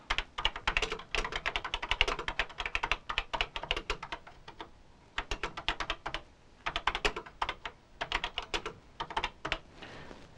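Typing a program on a Tandy Color Computer 3 keyboard: rapid bursts of close, crisp key clicks in uneven runs, broken by short pauses, with no talking.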